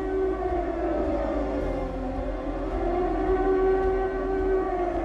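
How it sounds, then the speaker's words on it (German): Air raid siren in wartime Hamburg, a sustained wailing tone that swells and sags slightly in pitch, droning steadily and fairly loud over the whole stretch with no voices. "Und dann kam diese furchtbare Sirene, diese durchdringende Sirene, das hieß ab in den Keller."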